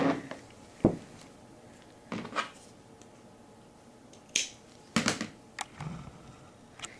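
Small snips and sharp clicks come close and quiet as a thin leather strap is cut for a Breyer model horse Western bridle, with several separate cuts spread unevenly between near-silent pauses.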